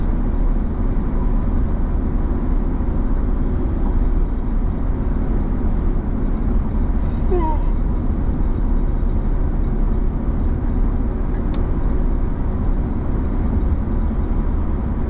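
A car cruising along the road at the speed limit makes a continuous, even rumble of road and engine noise from inside the cabin, with a brief faint chirp midway.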